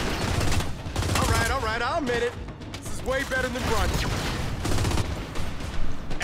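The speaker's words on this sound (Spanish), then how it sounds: "Ya te dice cuando le estás dando la cabeza, o sea, suena diferente." Gunfire and headshot impact hits from Gears 5 arcade mode multiplayer crackle in rapid bursts throughout, mostly buried under steady excited talking.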